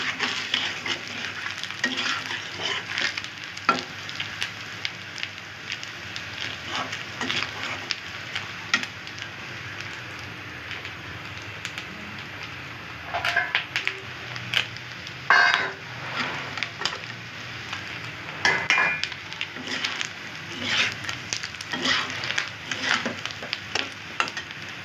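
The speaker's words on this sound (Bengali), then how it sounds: "এই গোস্তটি ভাইজা রাইখা দিব" Meat fries in a pan while being stirred and turned, a steady close sizzle broken by scraping and clacking strokes and bursts of louder crackle, continuing throughout.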